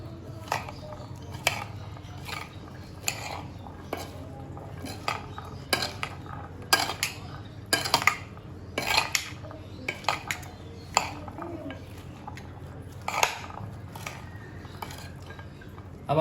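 A spoon clinks and scrapes repeatedly against a bowl while chana chaat is stirred and mixed, a steady rhythm of close metallic taps over a soft background hum.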